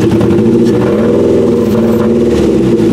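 Mazda 3 demolition derby car running with one ignition coil pack unplugged, revving loud and close with a rough, uneven, sputtering engine note that rises and wavers under throttle.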